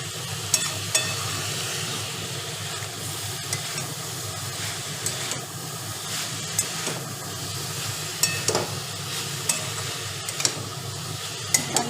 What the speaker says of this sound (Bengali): এবার বাঁধাকপিটা আর আলুটা এর সাথে ভালো করে কষিয়ে নেবো